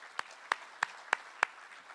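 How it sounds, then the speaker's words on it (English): Audience applause at a Cleveland Cavaliers sponsorship announcement, heard as five sharp, evenly spaced claps, fairly faint and sparse. "Round of applause for them, please."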